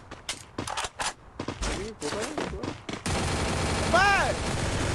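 Shooting video game firefight, with a run of sharp separate gunshots followed by a denser, continuous stretch of gunfire and a rising whistling tone near the end, while a player talks through it.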